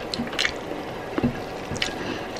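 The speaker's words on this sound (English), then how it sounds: "You all know how much I love to eat rice with my hands." Hands mixing and scooping Nepali rice and curry, soft wet squishing and smacking sounds in short bursts, close to the microphone, with no talk.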